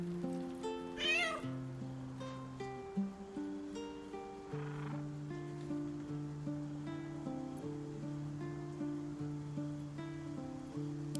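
A cat meows in the fantasy role-playing game Baldur's Gate 3, several clear, fairly loud meows over a steady game music bed with soft ambient wash, no speech.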